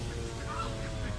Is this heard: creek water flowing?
no